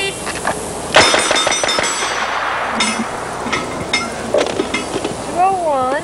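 Rapid gunshots ring out at a 1990 speed shooting exhibition, several sharp reports in quick bursts with metallic clinks between them, mixed with voices of people talking nearby.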